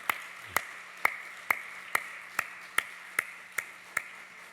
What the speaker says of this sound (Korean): 우리 인사하고 들어가실 때 다시 한번 큰 박수로 축복해 주시기 바랍니다.